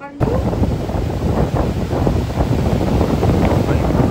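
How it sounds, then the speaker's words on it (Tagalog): Strong wind blasts the microphone in a loud, continuous roar with gusty swells by the sea on Calayan Island, with no clear talk over it. "ang lakas talaga ng hangin"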